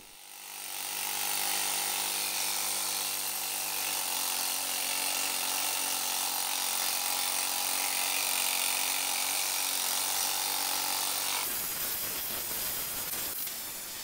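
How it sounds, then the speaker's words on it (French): A pneumatic needle scaler, or rust remover, strips paint from an iron gate with a loud, dense rattling hiss that runs steadily for about ten seconds, then changes character abruptly before trailing off. "c'est maintenant au tour du candidat décapeur à aiguille pneumatique, aka dérouilleur, aka marteau à aiguille"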